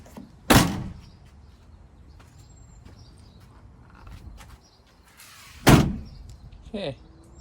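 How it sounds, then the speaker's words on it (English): A campervan door fitted with a custom bug screen slides and closes twice, each a sharp close thud with a short rattle, the second followed by a smaller clunk; quiet background with light handling noise between. "So okay, let's try closing the door."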